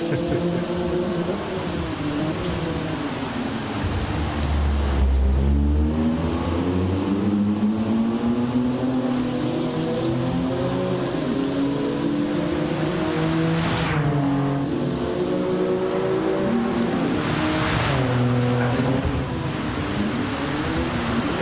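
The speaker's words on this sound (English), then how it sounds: "We see some drifting going on here, definitely, especially through the last turn" Race cars in a game drift through a turn, engines whining and rising and falling in pitch steadily throughout, loud and close, with no voices.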